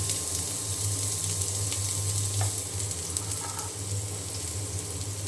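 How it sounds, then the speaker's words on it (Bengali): Chopped onion frying in hot oil for an eggplant bhaji, a dense steady sizzle close by with light stirring scrapes, unbroken and even in loudness. "তেল গরম হয়ে গিয়েছে এখন আমি তেলে দিয়ে দিলাম পেঁয়াজ কুচি"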